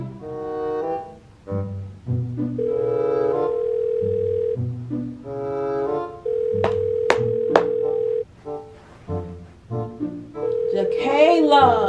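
A telephone ringback tone repeats in long steady bursts while a call goes unanswered, with someone talking over and between the rings.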